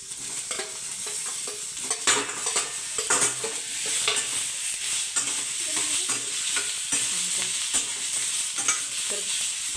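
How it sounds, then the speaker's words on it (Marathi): Onion and tomato frying in a pan, a continuous sizzle overlaid with repeated scraping and clinking strokes of stirring, fairly close and without voices. "कांदा जरा भाजून झाल्यावर टोमॅटो टाकायचे"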